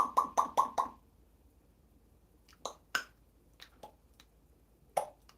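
A parrot mimics water plops: a quick run of four crisp, close plopping sounds, then a few scattered single plops after a pause.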